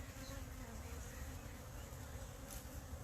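A swarm of agitated honey bees buzzes around a hive in a steady, dense drone, close and continuous with no pauses.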